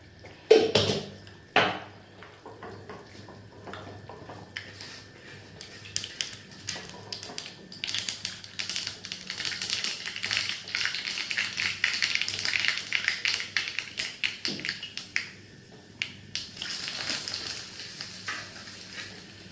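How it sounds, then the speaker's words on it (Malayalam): Mustard seeds spluttering and popping in hot oil for tempering vendakka puli kulambu, a dense crackle of quick pops building and holding over a steady sizzle, with occasional utensil taps. "കടു ഒഴിച്ചു താളിച്ചൊഴിച്ചു"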